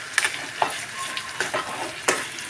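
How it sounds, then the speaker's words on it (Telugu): Green chillies stir-fried in hot oil for coconut chutney, a steady close sizzle broken by several sharp scraping stirs of the spatula, with no voices. "నూనెలో కాసేపు ఒక 5 నిమిషాలు ఇట్లా తిప్పుకోవాలండి"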